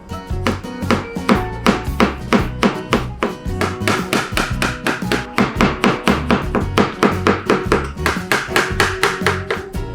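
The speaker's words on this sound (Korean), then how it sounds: "버섯은 채 썰어 주시면 돼요." A knife taps rapidly and evenly on a cutting board while julienne-slicing mushrooms for gimbap, a steady stream of crisp chops close and loud throughout.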